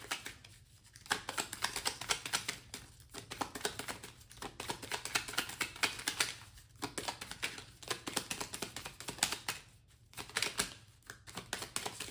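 Affirmation cards being shuffled and handled, a quiet run of rapid riffling and flicking bursts separated by short pauses, close and soft with no speech.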